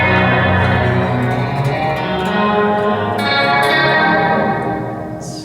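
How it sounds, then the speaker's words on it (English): An electric guitar runs through a Strymon BigSky reverb with the pitch shifted down an octave, so a single sustained chord blooms into a thick, deep, swelling wash that slowly fades. "Let's bring that to -1 octave."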